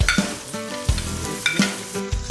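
Pork frying in a pan for pancit, with stirring and scraping strokes recurring every half second or so over a steady close sizzle, in a home kitchen.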